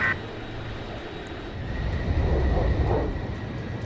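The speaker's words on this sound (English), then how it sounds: "Plane is ready for an emergency landing." An airplane touching down on a runway during an emergency landing in the Ace Combat video game gives a steady engine roar with a rising rumble partway through, moderately loud and with no talk.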